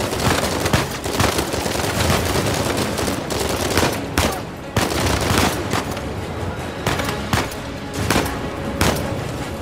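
Dense, relentless gunfire in the video game Uncharted 4: A Thief's End crackles and booms continuously, with overlapping shots and bursts loud and close throughout.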